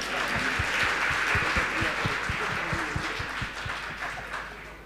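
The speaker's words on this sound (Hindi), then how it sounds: "अब बजाओ ताली।" At a spiritual discourse gathering, an audience claps in a loose, uneven rhythm, distinct individual claps standing out over a dense background hum before tapering off.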